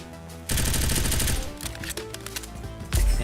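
Rapid submachine gun bursts in a close-quarters video game match, loud and dense at first, then thinning into scattered shots and impacts with a heavy thump near the end.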